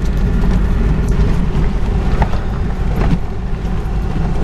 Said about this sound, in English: here I am driving in